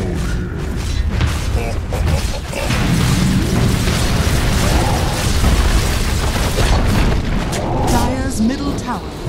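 A Dota 2 middle tower is destroyed with heavy booming, rumbling crashes that swell and roll on for several seconds, with a voice talking over them.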